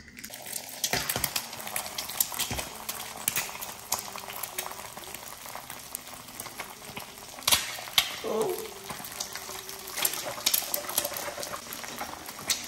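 Eggs cook in a pan with a continuous soft sizzle and bubbling, interrupted by occasional clinks and scrapes of a utensil, close by and fairly quiet.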